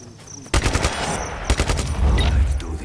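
Pistol fire in Just Cause 3, bursts of rapid sharp shots starting abruptly after a short quiet moment, followed by more shots over a loud rumbling game background.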